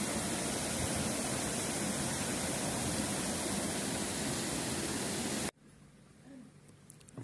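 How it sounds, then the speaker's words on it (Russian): Water rushes loud and steady down an open street channel on a central street in Bansko, roaring like a mountain river for about five seconds before cutting off to quiet background. "Настоящая горная река."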